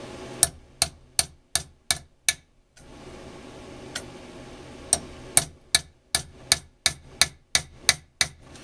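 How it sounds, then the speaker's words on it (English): Sharp metal hammer strikes on a steel center punch marking the end bell of a spa pump motor, about seventeen crisp taps in two bursts of steady, evenly spaced blows with a short pause between, close and clear. "We're going to take the hammer and our center punch. We're going to put a mark here."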